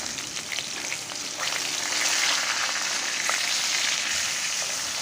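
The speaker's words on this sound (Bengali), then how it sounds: "লাল লাল করে ভেজে নিচ্ছি আমি।" Shol fish fries in hot oil until reddened, giving a dense, steady sizzle and crackle at close range with faint stirring ticks throughout.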